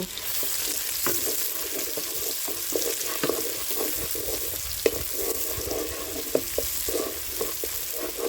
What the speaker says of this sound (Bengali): তেল গরম হয়ে আসলে এখানে দিয়ে দিব পেঁয়াজ কুচি। পেঁয়াজগুলোকে নেড়ে চেড়ে হালকা ভেজে নিব।